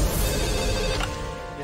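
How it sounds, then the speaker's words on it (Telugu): Telephone bell ringing in a Telugu film scene, a steady continuous ring at moderate loudness lasting the whole moment with no talk over it. "మళ్ళీ అదే ఫోన్ కాల్ వచ్చింది"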